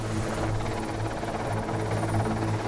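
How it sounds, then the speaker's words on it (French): Helicopter hovering over the Beauval zoo while lowering a structural piece into position, its steady rotor thrum and engine drone loud and continuous throughout with no voices. "L'hélicoptère doit positionner la pièce très exactement en place au centimètre près."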